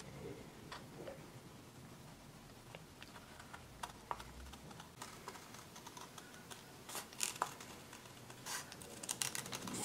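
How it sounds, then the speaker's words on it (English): Scissors snip out a paper circle for making doll hats, with soft irregular clicks and rustles close by and quiet, growing a little busier toward the end. "Now I'm going to go ahead and cut out this circle."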